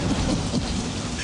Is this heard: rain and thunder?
yes